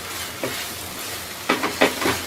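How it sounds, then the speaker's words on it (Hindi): Gram flour roasts with masala in a pan on low heat, a steady soft sizzle with a few scraping strokes of a spoon stirring near the end, close and fairly quiet. "अच्छे से मिक्स करके मसाले के साथ में थोड़ी देर के लिए इसे भी भून लेते हैं।"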